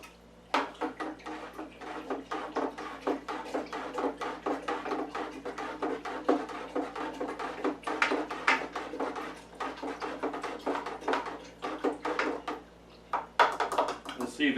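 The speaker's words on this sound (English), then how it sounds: "let's give that a stir" A spoon stirs a pot of homemade sambuca, producing a steady run of quick close scraping and clinking strokes over a low steady hum, with short pauses between bursts.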